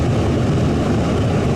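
Boeing B-29 "Doc" vintage bomber's propeller engines give a loud, steady, deep roar that fills the whole moment with no break.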